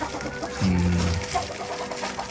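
A short, low clucking call from a chicken rises briefly out of a noisy outdoor background.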